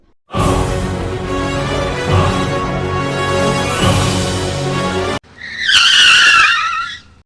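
A car brakes hard and its tires skid and squeal, a loud sustained screech of about five seconds, then a sharper, higher squeal bursts out after a brief break, with no talk over it.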